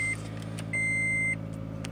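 A car engine idles steadily after starting, a low, even hum with a couple of electronic beeps over it, heard close and alone.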